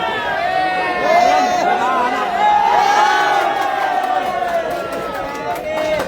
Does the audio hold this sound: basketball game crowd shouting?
yes